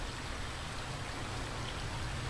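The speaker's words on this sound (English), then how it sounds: "the noise of the water running." Water running in a stream beside a base camp, a steady even hiss and patter of flowing water, close and continuous with no voices.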